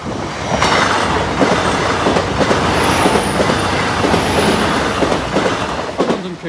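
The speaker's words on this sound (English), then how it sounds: "Yeah, train's here, guys." A train rolls steadily past a level crossing at Doddington Road, loud and close, with rhythmic clickety-clack of wheels over rail joints and faint wheel squeal throughout.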